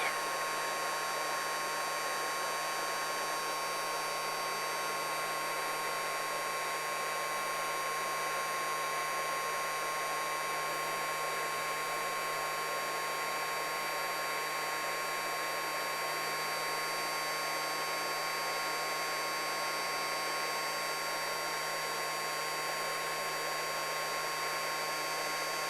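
A steady, unbroken hot-air whoosh from a heat tool welding a fly line loop, running loud and constant at close range the whole time with a faint electrical hum underneath and no voices.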